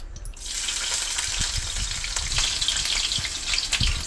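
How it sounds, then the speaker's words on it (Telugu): Chopped ginger and garlic fry in hot oil in a kadai while prawns are being cooked, giving a steady, close sizzle and hiss that runs throughout with no one talking. "అల్లం వెల్లుల్లి ఇలా చాప్ చేసుకొని ఆయిల్లో వేసుకుందాం."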